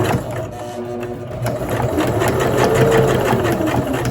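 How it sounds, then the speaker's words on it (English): A sewing machine stitches a quarter-inch seam across and down the edge of an apron, with a steady, loud, close mechanical whir that runs without a break and has no voices over it. "you're going to sew across here and down this edge."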